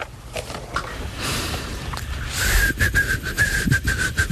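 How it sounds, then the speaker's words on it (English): A thin, wavering whistle tone starts partway through and repeats in short breathy notes over background noise, like someone attempting a tune. "She's trying to whistle to make it seem like that's the last thing on her mind."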